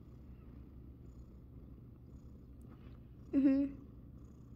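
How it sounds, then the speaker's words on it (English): A foster cat purrs softly while lying flopped on the ground: a faint, steady low rumble runs throughout, briefly covered near the end by a short murmured voice. "he just kind of flops on the ground and he just starts purring"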